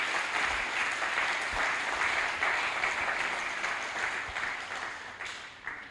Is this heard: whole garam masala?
no